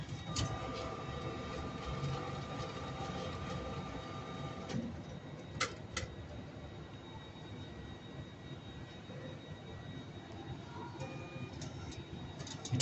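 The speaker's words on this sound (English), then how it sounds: "this one it printed a slip" A Nedbank ATM prints a deposit slip, its mechanism whirring steadily with occasional ticks and clicks over a constant background hum, close to the listener.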